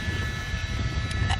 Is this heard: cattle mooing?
no